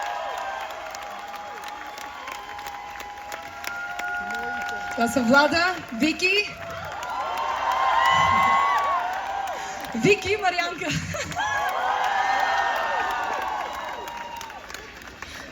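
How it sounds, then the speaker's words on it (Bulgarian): An outdoor crowd at a Sofia Pride concert cheers and applauds the dancers on stage in two swelling waves. Whoops and clapping are mixed with an amplified voice speaking over a PA. "може ли малко аплодисменти за тях?"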